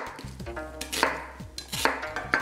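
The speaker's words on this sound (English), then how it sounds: "Let's start off by slicing up some daikon radish and potatoes." Knife slicing daikon radish and potatoes on a board, a few sharp cutting knocks and clinks spaced unevenly over a low hum, close by, with no speech.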